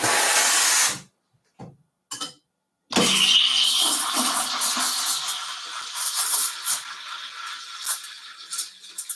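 A coffee machine's steam wand hisses as it steams milk, with two short opening bursts, then a longer sustained hiss that starts bright and gradually softens and roughens as the milk heats.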